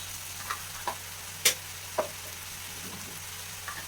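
Masala with added pepper powder frying in a pan, a steady low sizzle broken by a few sharp pops and crackles spaced about half a second apart, with one louder spit near the middle.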